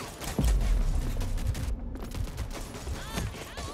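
Rapid bursts of SMG fire crackle through a competitive first-person shooter match, layered with dense game effects and near-continuous shooting across the whole stretch.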